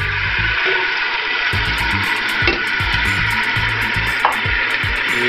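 One small onion, two garlic cloves and two potatoes sizzle steadily in a hot pan, a loud continuous frying hiss with occasional scraping and knocking of a utensil, no talking.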